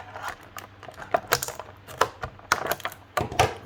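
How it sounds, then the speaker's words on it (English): Scissors or a blade snipping and crunching through plastic toy packaging to free a Marvel Legends Iron Man Retro Series Whiplash action figure, heard as a close, uneven run of sharp clicks and crackles with no talk. "His cape is in there tight, so I'm gonna cut this part just over here."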